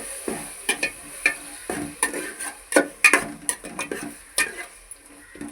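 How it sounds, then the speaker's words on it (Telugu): Ginger paste frying in a pan with curry leaves is stirred with a spoon. Irregular scraping and clinking strokes repeat up close over a faint background sizzle. "ఇప్పుడు కొద్దిగా అల్లం పేస్ట్ వేసుకుందాం. 1 స్పూన్ అల్లం పేస్ట్."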